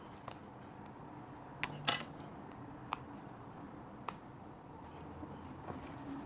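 Small sharp snippers cut the hem threads of denim jeans, giving a handful of quiet, crisp snips spaced irregularly over near silence.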